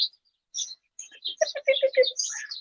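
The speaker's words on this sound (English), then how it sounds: "The birds are cussing me out." A bird sings a short series of close, clear chirps and rapid repeated notes, starting sparse and quickening into a burst, with no talking.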